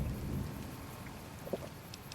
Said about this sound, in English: And why is it still raining?